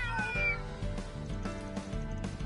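An old cat in the market area of the video game Trails Through Daybreak II lets out a close, drawn-out meow with a rising and falling pitch, followed by softer vocal mewls, with no talking.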